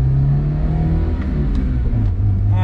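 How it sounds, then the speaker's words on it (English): A naturally aspirated Volvo 242 engine revs and pulls hard at elevation, its low drone rising steadily in pitch as it accelerates, close and loud throughout. "this is a naturally aspirated engine"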